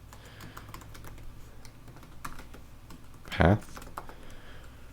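Computer keyboard typing, scattered soft clicks through the stretch with someone speaking briefly in one louder burst.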